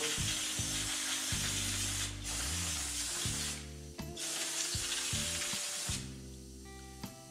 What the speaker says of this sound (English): Now take my carburetor cleaner and kind of just give it a once over.